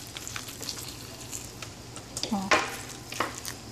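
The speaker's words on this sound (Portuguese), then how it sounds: "Aí eu misturo água fervendo." Wet scraping and squishing as boiling water is stirred into dog food in a bowl, soft irregular strokes with one brief louder scrape, close and quiet, with a short vocal sound partway through.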